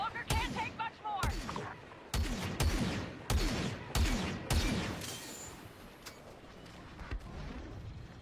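Video game weapon fire comes in sharp, irregular bursts of shots, loud and close, with a voice talking briefly between them.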